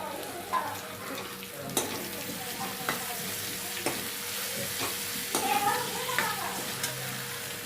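Tomato goes into a sizzling dal tadka, with a steady hiss of frying beneath clinks and scrapes of a spoon stirring the pan.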